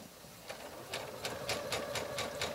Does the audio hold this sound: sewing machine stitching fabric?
yes